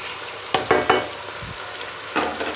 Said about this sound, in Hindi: टमाटर और मिर्चों को भी अच्छी तरह मिक्स कर लेते हैं